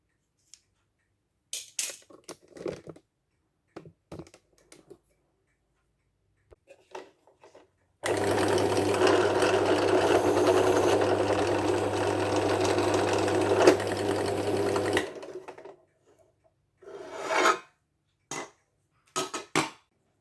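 A power drill whirs steadily for several seconds while boring a hole for a DIY sandblasting paint-stripping tool, framed by scattered clicks and handling knocks before and after.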